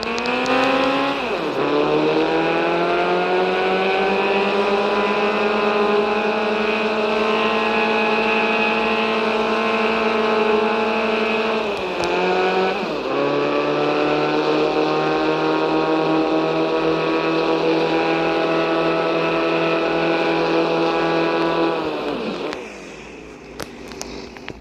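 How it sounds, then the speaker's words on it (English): An in-game car in Car Parking Multiplayer accelerates from 0 to 100 while towing. The loud, steady engine drone climbs in pitch, shifts gear twice with brief dips, then drops away at the end. "let's do 0 to 100 with towing"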